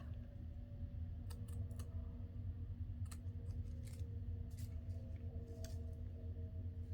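Scissors trim paper matchbook notepads in a few quiet, crisp snips and clicks spread over several seconds against a low background hum, faint and close with no talking.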